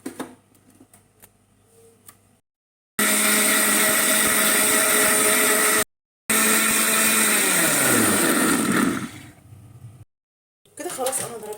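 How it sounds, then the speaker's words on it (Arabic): Electric blender whirring loudly as it mixes cake batter ingredients in its jar, two sustained runs separated by a short pause, the motor pitch dropping as the second run winds down, with faint talk before and after. "كده خلاص انا ضربت المقادير كلها مع بعضها في شفق الخلاط"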